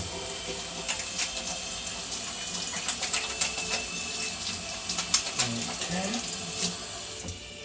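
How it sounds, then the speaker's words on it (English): A kitchen tap runs in a steady close hiss while hands are washed under it, with faint splashes and small knocks throughout before the flow cuts off at the end. "let me wash my hands first"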